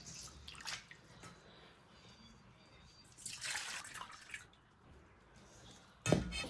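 Soaking water is drained off rice in a kitchen, heard as quiet trickles and drips in a few short bursts, with one sharper splash near the end.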